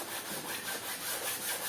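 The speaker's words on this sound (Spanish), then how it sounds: "aquí estoy dándole a la lija con diferentes granos" Coarse sandpaper rubs steadily across a painting, a continuous close scratchy abrasive sound with a gentle back-and-forth rhythm and no talking.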